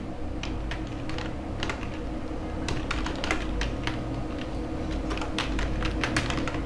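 Close-up rapid typing on a computer keyboard while HTML code is written, with uneven bursts of crisp key clicks and short pauses between them and a low background hum underneath.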